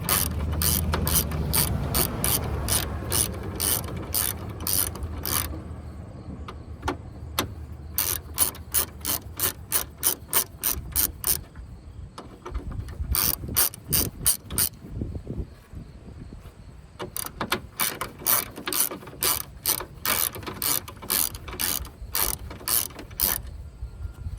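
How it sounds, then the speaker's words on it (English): A ratchet wrench tightens a bolt during radiator replacement on a 2008-2012 Ford Escape, with close, crisp clicking in fast bursts of repeated strokes separated by brief pauses, over a low background rumble. "Take this off and tighten this bolt."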